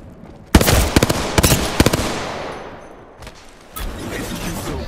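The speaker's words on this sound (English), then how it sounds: "Frag out!" Sharp gunfire bursts and a loud frag grenade blast in a multiplayer shooter video game, with a long rumbling decay after the crack and further impacts trailing off.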